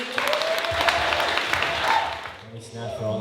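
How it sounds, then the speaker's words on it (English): Audience applause for a performer named Sean at an artist showcase and fundraiser: dense, steady clapping from a crowd fills most of the stretch, then thins and fades toward the end as a voice starts in. "Give it up for Sean, everybody."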